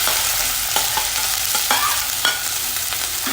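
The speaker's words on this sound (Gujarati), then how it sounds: "તેલ ગરમ થાય એટલે એની અંદર આપણે કેપ્સિકમ એડ કરવાના છે" Finely chopped capsicum fries in hot oil in a pan, a loud, close, continuous sizzle broken by several short scraping strokes of stirring.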